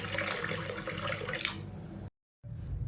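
Tap water runs over toor dal lentils being rinsed in a kitchen, a steady close splashing gush that cuts out briefly and then resumes.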